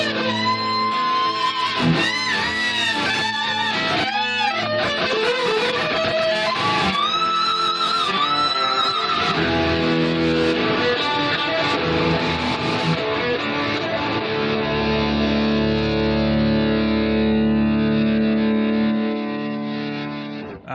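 Hyper-aggressive 1982 metal guitar shredding, heavily distorted and effects-laden, with fast, dense runs and sustained wailing notes over a full band that stays loud and continuous throughout.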